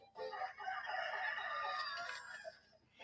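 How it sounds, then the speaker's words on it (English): Hens in the video game Little Goody Two Shoes make a continuous agitated clucking and squawking, a busy flock sound lasting a few seconds at moderate volume with no talk. "Careful with the hens now, you hear? Dare I say they're still riled up after last night."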